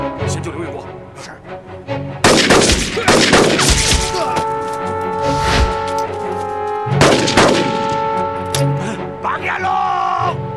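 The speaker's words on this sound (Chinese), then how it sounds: "开枪" Gunfire bursts in a Chinese war film about fighting Japanese troops crackle loud and close in two heavy volleys, with dramatic music and shouted voices around them.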